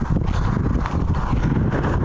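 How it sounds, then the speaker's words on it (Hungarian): Horses walking, their hooves clip-clopping in a steady, dense patter, close and fairly loud with no talk over it. "Ott mennek a lovak."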